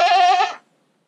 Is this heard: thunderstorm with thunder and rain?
no